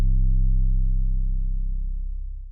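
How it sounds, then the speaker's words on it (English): Long 808 bass with a kick made in FL Studio for a dark orchestral beat: one loud punchy hit that rings into a deep sustained sub tone, slowly fading over about two and a half seconds, alone. "I need an 808 that is kind of long with a kick"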